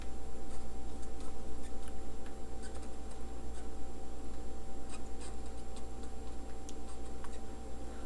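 Pen or marker strokes tap and scratch faintly on a writing surface while a transistor is written out, short irregular ticks over a constant electrical hum and background noise, with no talking.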